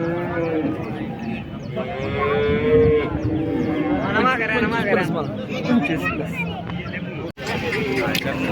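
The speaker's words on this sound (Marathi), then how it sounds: "आपण आता गाय बघू" Cattle low several times amid the steady chatter of a busy crowd at the Modnimb cow market, the moos rising clearly over the babble of voices.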